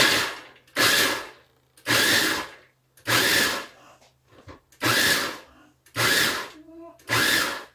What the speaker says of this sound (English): All right, I'm just going to grind these real quick.